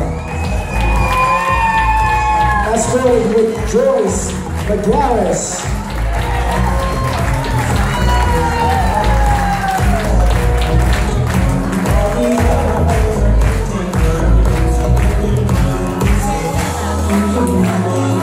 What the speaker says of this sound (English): How about a round of applause for Renee Duraco and Sean Gawker?